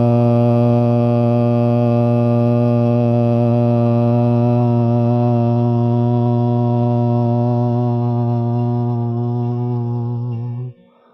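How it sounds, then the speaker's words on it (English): A group chants a long, sustained "Ah" together at a birthday celebration, a loud, steady, droning unison tone with rich overtones that holds for about ten seconds before fading out. "So the essence of all our teachers and of us is just the sound of Ah. So let's all tune in together."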